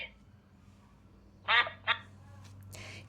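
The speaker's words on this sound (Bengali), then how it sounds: "duck।" Two quick, raspy quacks from the speaker of a talking flash card learning device, close and fairly loud, over a low steady hum.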